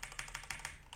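Keys on a HyperX mechanical keyboard are pressed in a quick, even run of about seven close, crisp clicks, quiet and with no talk over them.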